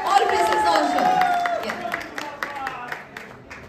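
Audience in a hall at a birthday celebration applauding and cheering, a burst of clapping and crowd noise that thins into scattered claps while a voice talks over it.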